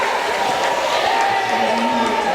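Crowd noise in a gym at a girls basketball senior night game between Peoria Manual and Canton, a steady loud murmur of many voices with some cheering throughout.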